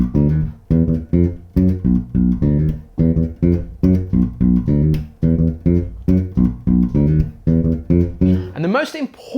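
Bass guitar plays a simple repeating groove with no dead notes, clean and close, in steady rhythmic bursts of round low notes, finishing with a brief sliding upward flourish.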